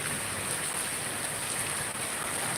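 Rain falling outdoors, a dense, even hiss of drops on surfaces, steady and fairly loud throughout with no voices.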